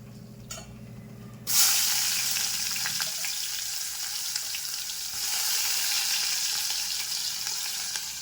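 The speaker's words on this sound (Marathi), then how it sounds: "ही फोडणी अशी छान तडतडून द्यायची" A sudden loud burst of crackling as spices hit hot oil with curry leaves, then a steady busy sizzle and spitting that continues to the end.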